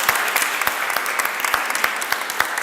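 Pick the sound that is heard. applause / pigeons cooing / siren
applause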